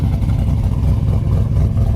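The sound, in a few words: 1971 Chevelle engine exhaust note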